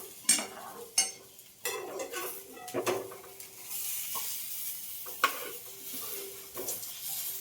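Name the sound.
fish frying in a pan, being flipped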